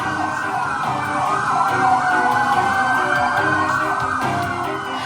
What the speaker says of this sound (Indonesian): Lampu rotator dan suara sirine kendaraan taktis milik Densus dinyalakan